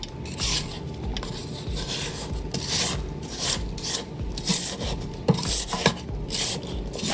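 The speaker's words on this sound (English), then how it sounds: "Scrape the bottom." A spatula scrapes the bottom of a mixing bowl full of 7 Up cake batter, making a continuous series of rasping strokes with small knocks, close and fairly loud.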